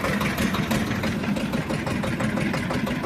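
A T-25 tractor engine idles steadily up close, a continuous low chugging rumble with a regular pulsing rhythm throughout, during ploughing.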